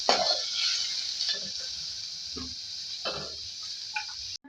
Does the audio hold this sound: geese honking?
no